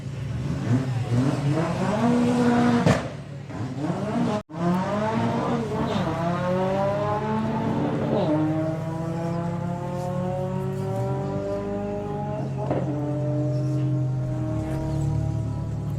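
Volkswagen Beetle drag racing car launching at a drag strip, its engine revving hard through several rising gear sweeps with brief shift breaks, loud at first and then receding steadily into the distance.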